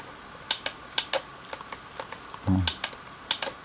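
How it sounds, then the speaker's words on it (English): Plastic buttons on a toy KYAMARC KY-1816A RC car remote being pressed, producing a quick irregular series of sharp, faint clicks close up. "There's a louder clicking than in here, so it means there is no proportional control."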